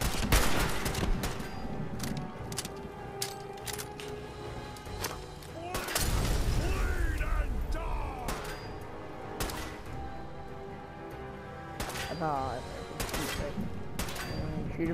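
Gunfire from the Fallout 4 video game comes in sharp bursts of shots and rapid volleys, some clustered and some isolated, over game noise and a player talking.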